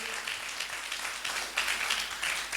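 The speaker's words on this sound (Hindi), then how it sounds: "जोरदार ताली बजाएंगे प्रभु की महिमा के लिए।" A church congregation at a Hindi worship service claps loudly in praise, a dense, continuous wash of many hands that swells slightly toward the end.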